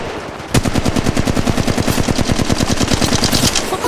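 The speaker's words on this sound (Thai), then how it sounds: "พวกคุณยิงใส่ฉัน" Rapid automatic gunfire in the mobile shooter Apex Legends Mobile, a loud, steady burst of evenly spaced shots lasting about three seconds, alone with no talk over it.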